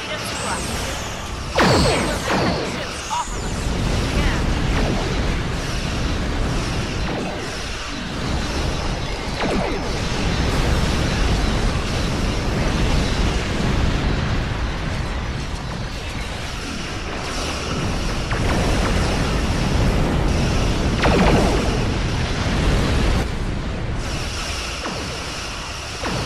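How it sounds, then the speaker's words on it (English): A Star Trek ship battle fills the scene with protomatter torpedoes launching and detonating: repeated whooshes, crashes and booming blasts over a constant rumble, with voices talking through much of it. "They're launching protomatter torpedoes."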